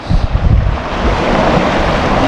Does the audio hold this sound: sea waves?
yes